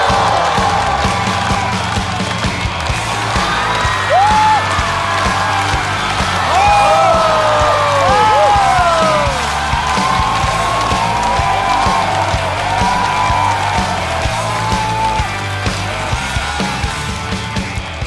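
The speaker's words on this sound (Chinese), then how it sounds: "掌声有请" A stand-up comedy audience at a talk show applauds and cheers steadily, with whoops and yells rising over a continuous wash of clapping.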